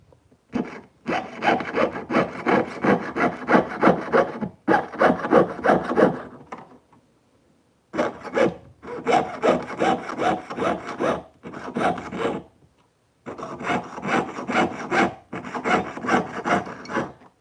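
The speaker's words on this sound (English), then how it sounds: "I have a favorite flex shaft tool that I use for everything. So we'll use that to clean up" Long bursts of harsh, rhythmic rasping and scraping against metal, broken by brief pauses, close and steady throughout, as a flex shaft rotary tool cleans up sawn edges of a metal jewelry clasp.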